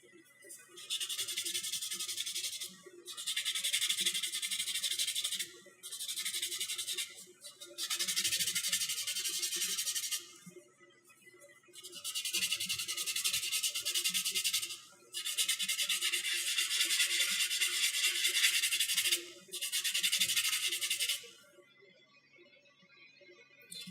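Hand sanding of a project surface in a workshop, with several long bursts of harsh, hissing abrasive rubbing separated by short pauses, close and fairly loud, with no talking.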